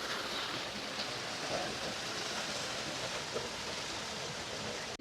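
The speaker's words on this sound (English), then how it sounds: "A little waterfall action going on here." A small resort waterfall makes a steady, broad rush of falling water, close and unbroken, with no voices heard over it.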